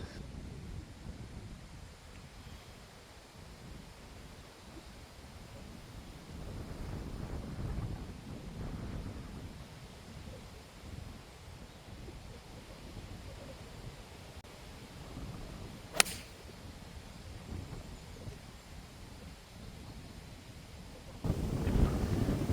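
Wind rushes over a golf course, buffeting the microphone in a low, uneven roar that swells and fades, with one sharp tick midway and a louder gust near the end; no talking.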